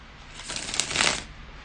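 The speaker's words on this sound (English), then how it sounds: "bear with me just a couple of seconds, guys, to shuffle the tarot cards" Tarot cards are shuffled by hand at close range, a dense papery riffle that swells to a peak and then fades, with no talking.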